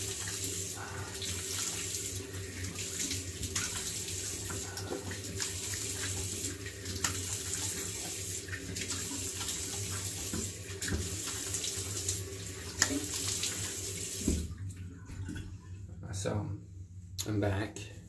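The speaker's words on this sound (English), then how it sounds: "And then I'm going to wash my face." Tap water runs steadily into a sink while a face is washed, a continuous close hiss that fills most of the stretch before cutting off near the end, followed by a few quieter splashes.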